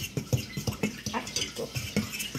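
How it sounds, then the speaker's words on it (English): A fork stirs lemon curd slowly in a bowl, with rhythmic, close scraping and clinking strokes repeating steadily and no voices over them. "Use a fork and stir this up slowly."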